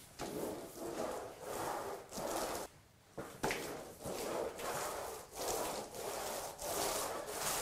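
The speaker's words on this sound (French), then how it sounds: "Le primaire s'applique avec un rouleau de 10 mm de mèche, enfin de longueur de mèche." A roller with a 10 mm nap spreads weberprim primer over a floor in rhythmic close swishing strokes, repeated back and forth with one short pause midway.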